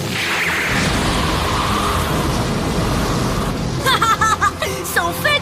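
A cartoon explosion from a spinning top battle, a dense roaring blast sustained at full loudness, then giving way to a voice and quick laughter-like sounds near the end.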